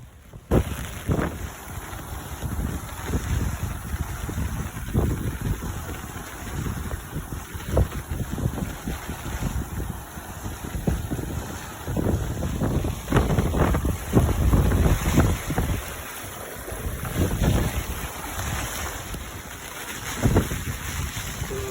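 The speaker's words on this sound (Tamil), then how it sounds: "மழை காற்று அடிச்சுக்கிட்டே இருக்குது ரெண்டு நாளாக விடவே இல்லை" Gusty wind from Cyclone Fengal in Cuddalore, Tamil Nadu roars steadily across the microphone, with rough buffeting and a watery, splashing wash of rain underneath throughout; no voices.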